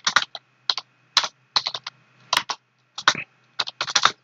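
Someone types a password on a computer keyboard: irregular bursts of crisp, close key clicks with short pauses between groups.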